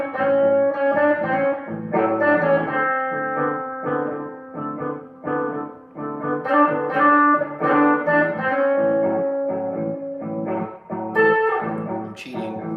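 Electric guitar runs through chord tones in a steady, continuous stream of notes and ringing chords, with an effects-coloured, slightly distorted tone, played up close and alone without any talking.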